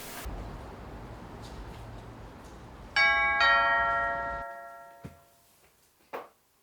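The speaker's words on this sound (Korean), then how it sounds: "일주일에 한 번 울리는 초인종 소리는" A home doorbell sounds a clear two-tone ding-dong chime, ringing out and fading over a couple of seconds in a quiet room, followed by a few faint knocks or footsteps, with no talking.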